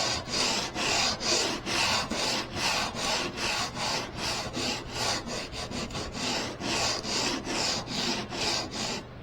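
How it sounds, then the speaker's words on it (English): Hand sanding of varnished wood on a boat's coachroof, a steady rhythmic rasp of back-and-forth strokes, close and loud throughout with no talking. "It's really difficult to sand, and you can actually see the wood changing color."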